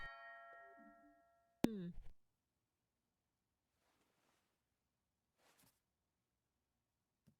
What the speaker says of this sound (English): Who's ringing my doorbell?